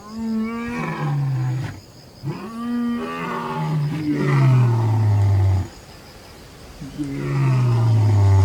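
A lion roaring in the wild, a series of deep, loud, close roars that fall in pitch, separated by brief pauses, with no talk over them.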